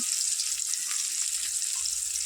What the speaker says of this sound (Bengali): আচ্ছা মাছটা ভাজি হয়ে যাক